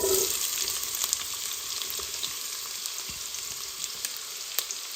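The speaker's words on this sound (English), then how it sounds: "And fry the onion." Onion frying in warm oil, a continuous close sizzle with light crackles and a few soft stirring ticks throughout.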